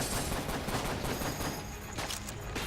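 Rapid gunfire from shooting in the bullet-hell game Enter the Gungeon, a dense, continuous barrage of overlapping shots that stays loud and busy throughout with no talking.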